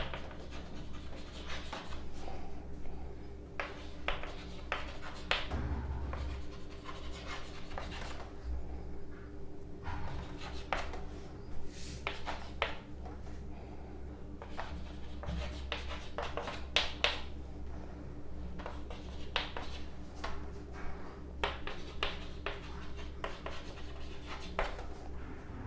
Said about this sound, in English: let me draw the diagram